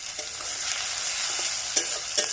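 Crushed ginger, garlic and tomato sizzle steadily in a hot pan as they are stir-fried, with a few sharp scrapes of the spoon against the pan.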